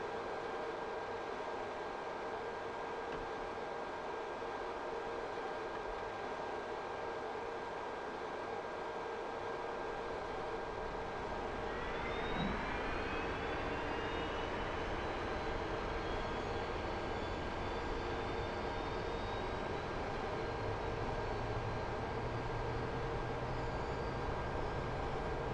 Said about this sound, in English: move the engine selector switch on the left panel to the left engine and press the start button